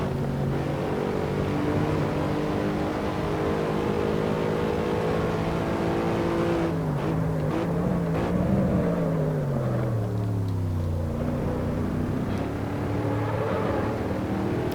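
Mercedes SLS race car engine in the Assetto Corsa game at the Nürburgring GP circuit, revving steadily then dropping and rising again as the throttle lifts and reapplies, continuous and fairly loud with no speech.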